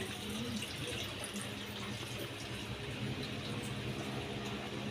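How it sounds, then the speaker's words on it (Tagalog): Steady running water pours continuously into a cooking pot, a full rushing stream like a tap filling a pot, with no voices over it. "Lagyan natin tubig."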